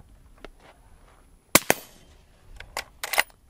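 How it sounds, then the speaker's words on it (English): Several sharp cracks from a suppressed subsonic .308 sniper rifle fired at a steel target, one loud snap followed by a few quicker, quieter reports, close and without talk. "Let's go ahead and shoot that same ammunition with the suppressor so you guys can get an idea on what that sounds like."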